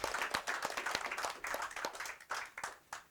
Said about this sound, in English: Can I give y'all a round of applause?